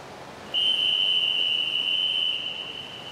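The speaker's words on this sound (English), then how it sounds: "Get the whistle and move to the blocks." A starter's whistle sounds at a swimming championship, one long, loud, steady blast lasting nearly two seconds before it eases off over faint poolside ambience.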